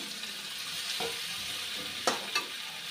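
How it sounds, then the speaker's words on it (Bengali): Katla fish pieces go into a hot pan of oil with potatoes, sizzling and frying steadily up close, with a couple of brief scraping stirs cutting in near the end. "মাছগুলাও দিয়ে দিলাম।"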